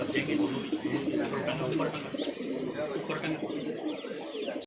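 Maniyal pigeons keep up a continuous, layered cooing near at hand, with a voice talking over the birds and faint higher chirps now and then.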